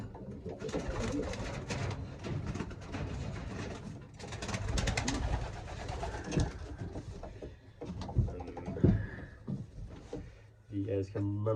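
Racing pigeons cooing in a loft, a steady low murmur of several birds close by, with talk over it and a few sharp knocks near the end.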